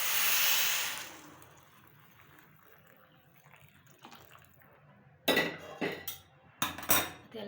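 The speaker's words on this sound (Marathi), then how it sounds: "आता मी यामध्ये गरम पाणी टाकणार आहे।" Hot water is poured into a pot of matki (moth beans) for a spicy curry: a loud, steady rushing pour lasting about a second, then quiet, then several sharp, close metallic clanks of pots and utensils.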